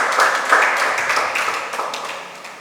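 Members at a Uganda Law Society annual general meeting clap together in a dense, steady round of applause that carries through the whole stretch and fades slightly toward the end.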